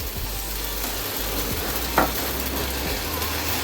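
Semolina chilla batter poured onto a hot oiled pan hisses with a steady, close sizzle, and a single soft tap is heard midway, with no talk.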